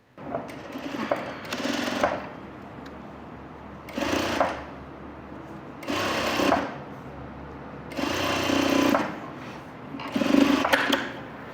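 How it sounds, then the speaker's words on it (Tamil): A sewing machine stitches a blouse in five short runs of rapid clattering, each about a second long, separated by quiet pauses, heard up close. "அதனால உங்களுக்கு தச்சு காமிச்சிட்டேன்"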